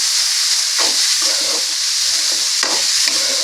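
Onions fry in a tempering with turmeric, giving a close, continuous sizzle with repeated scraping strokes of a spoon stirring the pan.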